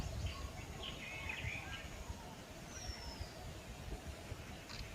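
A stork-billed kingfisher in Pench Tiger Reserve gives faint, high calls in brief bursts, set well back against a steady low rumble of forest and vehicle noise.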